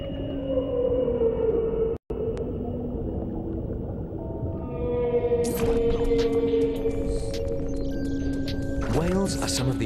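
Long, tonal whale calls of moans and sustained pitched hums that slide and overlap, with higher squeals and chirps joining in the second half, loud and continuous in open water.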